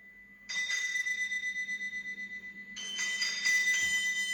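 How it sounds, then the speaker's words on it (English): Electric bells ringing throughout a house, heard twice as long sustained ringing bursts with a brief pause between, loud and metallic, radio drama effect, no voices. "soon it rang out loudly, and so did every bell in the house"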